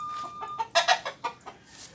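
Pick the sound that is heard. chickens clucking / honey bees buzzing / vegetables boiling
chickens clucking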